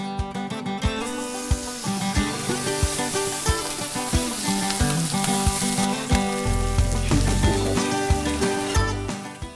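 Bacon and sausage sizzle steadily in a 12-inch cast iron skillet on a stovetop, a loud continuous frying hiss with occasional pops and clinks, no talking.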